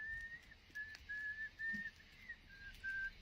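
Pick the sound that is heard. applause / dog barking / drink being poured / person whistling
person whistling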